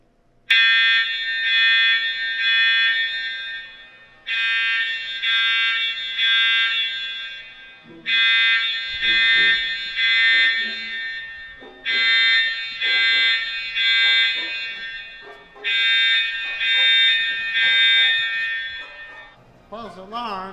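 An indoor fire alarm rings loudly in five long, shrill electronic bursts separated by short gaps, with people talking in the pauses.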